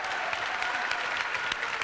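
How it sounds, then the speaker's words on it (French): TV studio audience clapping for a young woman on a French variety show, a steady moderately faint wash of applause lasting under two seconds without speech. "applaudissements pour cette jeune fille"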